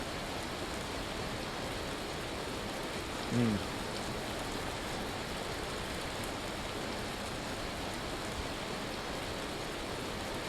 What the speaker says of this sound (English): The hail is crazy, bro.